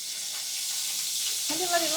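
Washed, still-wet curry leaves hiss and sizzle steadily in hot oil while fish curry is prepared, with a voice joining briefly near the end.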